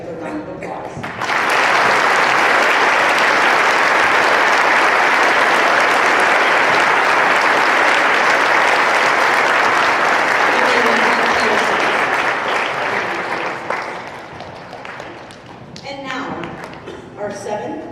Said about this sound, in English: Please join with me in recognizing our essay writers with a round of applause